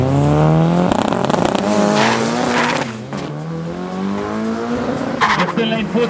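Drag race cars at Midvaal Raceway, including a Datsun, roar loudly with a revving engine note and tire squeal, close and sustained, with voices talking over the noise.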